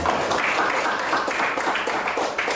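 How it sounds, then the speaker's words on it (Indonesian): Group applause for a student team in a classroom at a teacher-training session, a steady dense clapping that fills the whole stretch without pause. "kita beri tepuk tangan buat kelompok 3"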